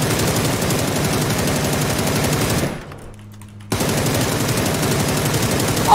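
Machine gun fire in a video game, a loud, rapid, continuous stream of shots that briefly drops out for about a second before resuming at full intensity.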